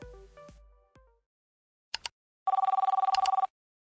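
A telephone line connects for a call-in to a broadcast: a few fading clicks and tones, a brief double blip, then a loud ringing burst of rapid pulses lasting about a second, with no talking.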